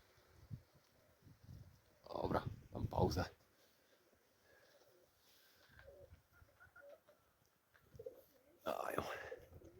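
Pigeons coo softly in low, throaty bursts, a couple of louder rounds rising out of quiet background murmuring and faint voices.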